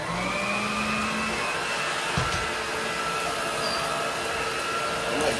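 A 1960s Electrolux vacuum cleaner runs steadily on a rug setting, a loud continuous motor whine and rushing airflow with a brief low thump partway through.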